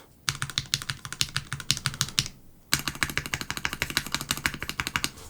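A Melgeek Mojo68 keyboard with plate-mounted stabilizers and stock unlubed Milky Yellow switches is typed on in quick, dense bursts of crisp keystrokes, heard close and alone, with a brief pause before a second, longer run.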